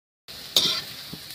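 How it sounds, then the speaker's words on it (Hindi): Onions and green chillies frying in a pan, a brief burst of sizzling after silence with one sharp scrape of a stirring spoon and a faint second knock. "देखिए कैसे कलर बदल रहा है प्याज, इसको हम चलाते हुए भूज रहे हैं"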